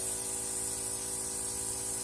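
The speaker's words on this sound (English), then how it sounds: "let's put in some cleaning fluid and let's spray it through." An airbrush used for makeup sprays cleaning fluid through in a steady, loud hiss that continues unbroken for the whole moment, with no talk.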